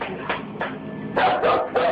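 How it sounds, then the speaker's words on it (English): A full-grown dog barks nervously in several short, sharp bursts, close and fairly loud, with no talk over it. "when your full-grown dog is barking nervously and actually backing towards the door to get away"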